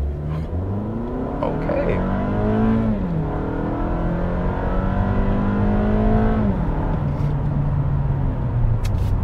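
A 2021 Toyota Camry XSE AWD sedan in sport mode with traction control off is brake-torqued and launched, its engine revving up through gears in a loud, sustained close-up roar, with a brief spoken word at the start.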